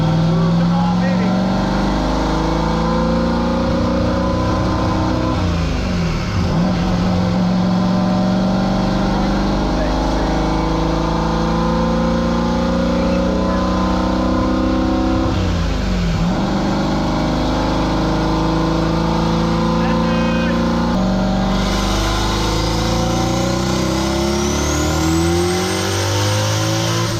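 A 20-year-old car making over 1000 rear-wheel horsepower on a Golen engine short block revs loud and close. Its rough, layered engine roar climbs and falls in pitch through several pulls, with excited talk over it.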